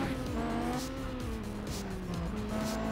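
Engine roar and tire squeal from a car drifting and boosting through a big left turn in the racing game Juiced 2 Hot Import Nights, loud and continuous with pitch sweeping up and down as power surges.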